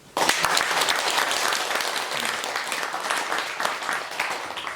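A large audience claps vigorously at a Buddhist dharma assembly, a dense, loud, continuous roar of hand claps that starts abruptly and holds steady without talk.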